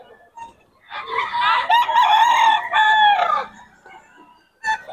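Gamefowl roosters crow in a loud, close burst lasting a couple of seconds, framed by softer clucks before and after.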